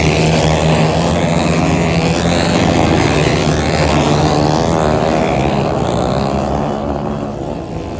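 Flat track racing motorcycles in a Super Hooligan or Pro main event roar loudly and continuously as engines howl past, a dense mechanical drone that eases slightly at the end.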